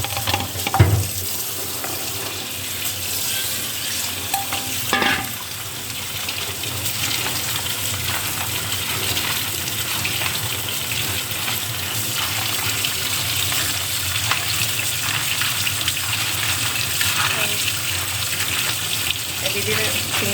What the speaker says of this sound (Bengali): দিদি সিমটা ভালো করে ধুয়ে নেবে।